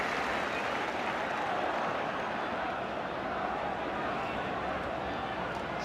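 Tottenham Hotspur fans at a 1984 home football match against Liverpool roar and cheer as a dense, steady stadium crowd noise, with a commentator talking over it.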